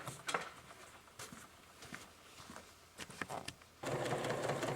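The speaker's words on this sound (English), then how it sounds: "now I'm going to stitch my first sashing down" A sewing machine stitching quilt sashing, scattered soft handling taps followed by a steady fast mechanical whirr starting near the end, quiet and close.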